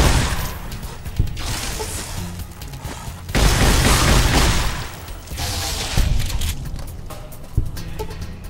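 Rapid gunfire and booming blasts from a firefight in Fallout: New Vegas, dense and loud throughout, with heavier bursts and explosions standing out over the constant barrage.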